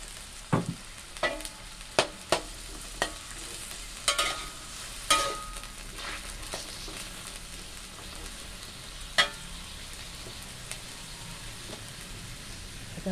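Luffa sponge gourd stir-fried with egg in a pan as water is added, giving a soft steady sizzle broken by sharp clinks and scrapes of the spatula, with no talk.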